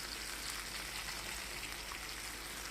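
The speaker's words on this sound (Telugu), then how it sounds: "ఇప్పుడు ఈ పులుసు ఉడుకుతూ ఉంది కదండి" A pot of pulusu stew with drumstick pieces, raw mango, tomato, onion and chili powder simmering, a faint, steady bubbling hiss with no breaks and no voices.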